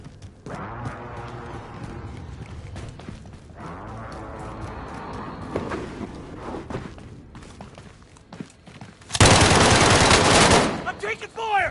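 Rapid machine-gun fire from a first-person shooter video game, sustained bursts with a loud dense stretch near the end, heard over ongoing game noise and players' voice chat.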